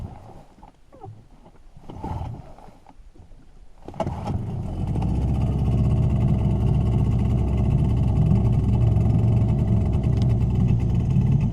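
A Suzuki 9.9A/DT15A outboard motor is cranked and fires up after a few seconds of clattering handling sounds, then settles into a loud, steady close-up running drone for the rest of the clip.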